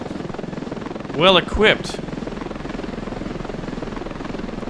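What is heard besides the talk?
helicopter flying in Ravenfield video game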